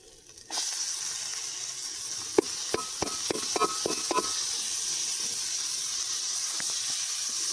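Strained taro leaves land in hot spiced oil tempered with chilli, bringing on a sudden hissing sizzle with a quick run of crisp crackles early, then a steady, even frying hiss.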